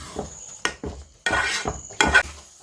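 Flattened rice halwa stirred in a pan, a spoon scraping and knocking against the metal in several sharp clatters and longer scrapes, close and fairly loud with no talk.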